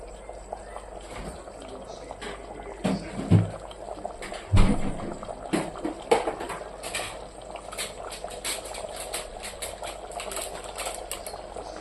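Chicken curry simmering in a pot in a home kitchen, a steady low bubbling with scattered clinks and scrapes of a utensil against the pot.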